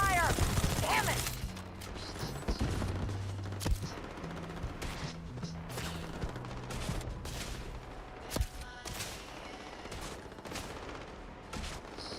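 Rapid bursts of gunfire from the video game Starfield, with dense volleys and sharp cracks over a steady battle din and occasional louder single shots.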